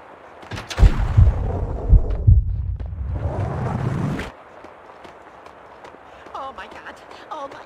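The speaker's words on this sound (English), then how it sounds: "The sound of an explosion came from the direction of my apartment." A loud explosion in Max Payne 2 sends heavy booming rumbles through a trembling building for several seconds, then fades into quieter background noise.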